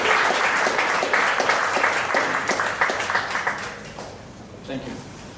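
A morning pitch-event audience claps to welcome the first presenter to the stage, a dense burst of applause that fades and breaks into scattered claps near the end, with voices mixed in.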